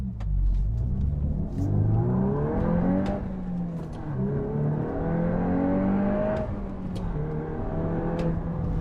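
A 2022 Volkswagen Golf R engine in race mode revs and accelerates through several gear changes, its pitch rising and dropping repeatedly, steady and fairly close, with no voices.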